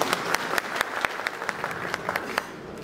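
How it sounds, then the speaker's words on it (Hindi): A crowd at a Bhojpuri film muhurat event claps in a steady, rhythmic burst. Sharp, distinct claps stand out above a continuous wash of applause, and the sound stays even and fairly loud throughout. "एक ताली बजा के आशीर्वाद दे।"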